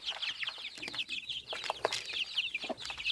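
Several chickens cluck and chatter close by in quick, irregular bursts while eating pelleted feed, with soft pecking sounds mixed in.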